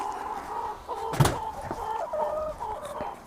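Two backyard hens clucking at a hanging feeder pot in their run, close repeated soft clucks with one sharper louder call partway through.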